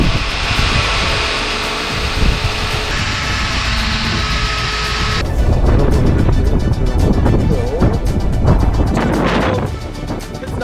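Strong outdoor wind roars and buffets steadily at the Canadian National Ice Carving Championships, a loud, rough rush of noise that swells midway and holds.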